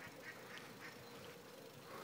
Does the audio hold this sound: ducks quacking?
yes